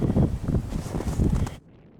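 Gusty, cold wind at a lake cottage buffets the microphone in a steady low rumble with rustling, then cuts off abruptly near the end.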